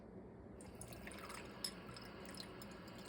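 Tap water runs quietly over ketchup-coated pennies in a kitchen, a soft steady trickle with faint drips and splashes, low in level and with no talk.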